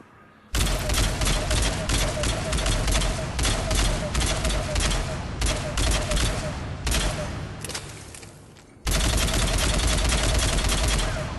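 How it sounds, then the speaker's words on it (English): A Phaeston assault rifle fired from the hip in Mass Effect 3 rattles out long, loud, rapid full-auto bursts, broken by a short pause before firing resumes. "I do not recommend firing the Phaeston at mid to long range from the hip."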